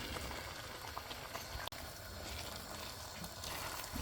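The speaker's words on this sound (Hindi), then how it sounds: "ये चने डाल के बुनाई करेंगे।" Chickpeas frying in a pot for chikar cholay: a faint, steady bubbling sizzle that runs on without a break, with one brief click partway through.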